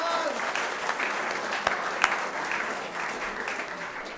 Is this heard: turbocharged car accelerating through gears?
no